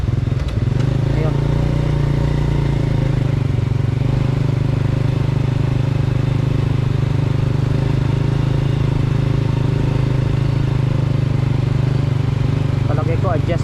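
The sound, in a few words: motorcycle engine running with gear shifting problem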